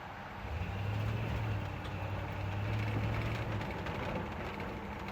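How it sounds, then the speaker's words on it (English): A 1970 Jeep Wagonmaster accelerates in first gear with a steady, broad engine and drivetrain rumble, heard from inside and swelling slightly as it pulls. "I'm going to accelerate, and you'll see that it doesn't have any wheel spin."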